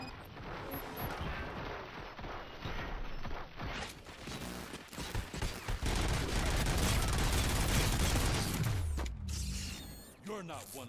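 Gunfire in the RoboCop: Rogue City video game, a dense, loud stretch of rapid shots and mechanical clatter building to a sustained burst, with a voice briefly heard amid the action.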